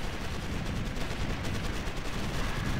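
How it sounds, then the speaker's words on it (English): Heavy, sustained gunfire from a Ground Control 2 battle, a dense continuous rattle of shots and distant explosions with no pauses. "We're under heavy fire."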